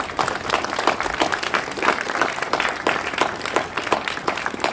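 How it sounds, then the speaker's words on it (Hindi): Loud, sustained clapping from an audience at a school Basant Panchami celebration at KV Augustyamuni, a dense, even patter with no break from start to finish. "यतिन सर के लिए भी जरा जोरदार तालियां बजा दीजिए"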